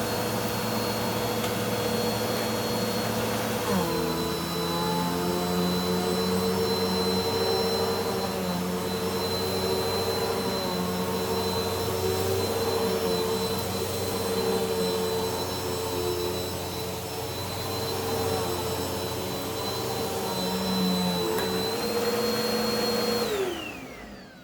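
A Bissell PowerForce Turbo Rewind vacuum cleaner switches up to a loud, steady whine with a high motor tone, runs continuously and then spins down at the end.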